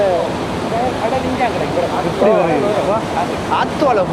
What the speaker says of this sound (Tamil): இது இப்போ கடல் வருது